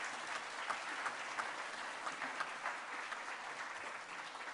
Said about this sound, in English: I heard some applause breaking out for him over there.